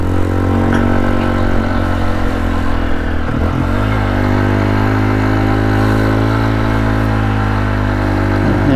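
A motorcycle climbing a steep mountain road in Benguet in the Cordillera and downshifting to first gear: a loud, close, steady engine drone whose pitch dips briefly partway through at the shift.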